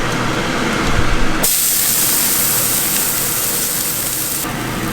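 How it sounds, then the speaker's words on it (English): Diced onions sizzle in olive oil in a hot pan, a loud steady hiss that swells up abruptly and holds, then drops back near the end. "we're gonna add a little bit of olive oil to our pan. And then we're gonna cook some onions"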